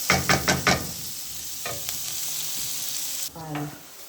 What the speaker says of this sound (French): Voilà les oignons que je suis en train de faire caraméliser un peu.